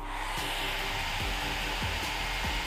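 A budget hair dryer costing about 400 rupees runs on its cold setting, giving a steady, close airy whoosh and hiss with a low motor hum, unbroken and without voices.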